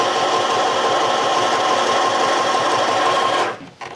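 Sewing machine stitching a drawstring bag liner, a loud, steady, continuous motor whir with rapid needle chatter running for about three and a half seconds before stopping abruptly.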